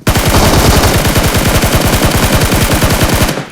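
A rapid, continuous burst of automatic gunfire in a video game, loud and close, with evenly spaced shots rattling for about three seconds before stopping abruptly.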